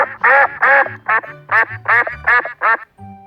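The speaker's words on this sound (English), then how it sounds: "Duck." A duck quacks in a steady series of about eight loud, close, nasal calls, evenly spaced and heard alone without talk.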